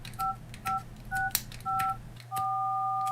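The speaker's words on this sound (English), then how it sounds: "The phone's complaining beeps drowned out the scratches a little bit" Keypad beeps from a Nokia 3310 T9 phone: five short paired-tone presses at an even rhythm, ending in one longer sustained tone, close and clear over a low steady hum with no talking.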